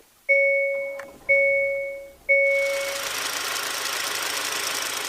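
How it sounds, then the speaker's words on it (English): A Hyundai Santa Cruz or Ford Maverick pickup truck is started outdoors at 30 below: three warning chimes sound, then the engine catches and settles into a loud, steady run. "Let's see if this thing starts up at 30 below."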